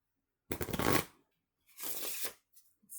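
Two bursts of a deck of cards being riffle-shuffled close by, each lasting about half a second, separated by brief silence, with a faint third flutter at the end.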